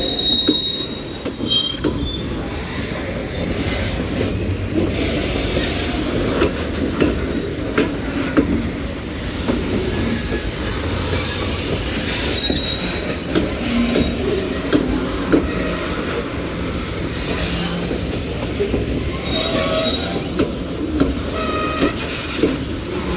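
A Union Pacific mixed freight train of tank cars and hoppers rolls steadily past at close range, a continuous loud rumble of wheels with metallic squeal and rhythmic clatter throughout.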